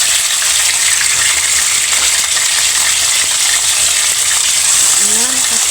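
Fish sizzles and spits loudly in hot cooking oil in a pan, a steady dense crackle filling the whole stretch without a break.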